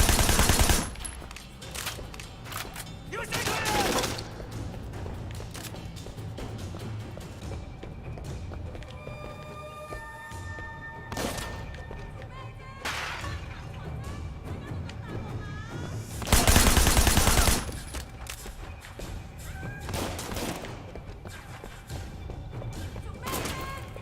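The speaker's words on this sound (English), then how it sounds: "All that shooting." Gunfire in the Sleeping Dogs video game, with sporadic loud shots and bursts spread across a long stretch, mixed with game sounds and intermittent talking.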